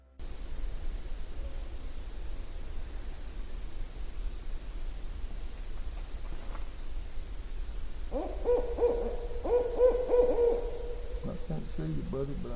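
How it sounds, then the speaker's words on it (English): Owls call very close in Kisatchie National Forest, Louisiana, a run of rhythmic hoots rising over steady hiss in the second half of the recording. "Pat, Joe, and I had a really cool exchange with some very close owl calls."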